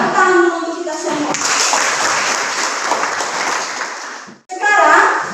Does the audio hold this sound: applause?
yes